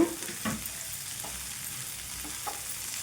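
Finely shredded cabbage stir-fries in a pan with a quiet, even sizzle and a few soft stirring scrapes, heard up close with no one talking.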